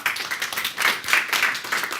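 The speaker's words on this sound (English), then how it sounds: "That applause is for Mayor Phil Rico." An audience applauds Mayor Phil Rico at a Trinidad community event, a brief burst of close, rapid, uneven hand clapping with no voices over it.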